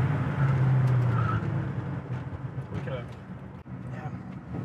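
A 1963 Chevy Nova SS braking hard from highway speed on a test drive, with loud road and engine rumble, a brief tire squeal early on, and the car slowing under steady noise.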